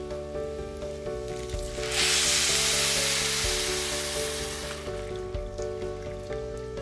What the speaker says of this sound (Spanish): le vamos a agregar el caldo